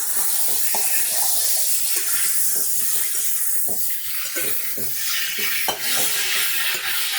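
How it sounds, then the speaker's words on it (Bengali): Spices and vegetables sauté with ginger garlic paste over a medium flame, a steady soft sizzle and hiss punctuated by scattered stirring knocks and scrapes of a spoon in the pan. "ভালো করে মশলাগুলো সবজিগুলো ভালো করে কষিয়ে নিচ্ছি আমি"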